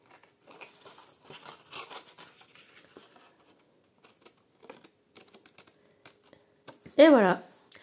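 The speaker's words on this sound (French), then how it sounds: "je reprends ma paire de ciseaux et je vais venir couper là où j'ai fait ma rainure." A watercolour Christmas card is cut with scissors in a run of small crisp snips and paper rustles, close-up and intermittent, with a louder crinkle at the end.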